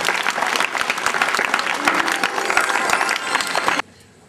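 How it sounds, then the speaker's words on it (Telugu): A church congregation in Kanaparru bursts into loud, dense applause for a priest at his silver jubilee celebration, sustained clapping filling the space for nearly four seconds before stopping abruptly. "కరతాల దొల్లుతూ చప్పట్లు కొడుతూ ఫాదర్ గారిని అభినందిస్తున్నాం"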